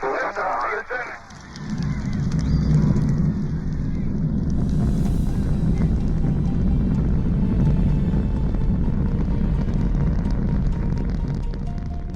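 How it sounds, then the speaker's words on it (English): A deep, sustained roar builds and rumbles continuously with heavy low-end crackle, like a rocket engine thundering at launch, loud and steady throughout. "The rocket blasts off into the sky, shaking the ground beneath us."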